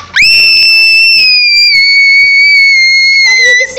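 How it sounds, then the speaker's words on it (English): A person's loudest scream, one sustained, very loud, shrill high-pitched cry held for over three seconds with a slight downward drift before breaking off. "This is my loudest scream."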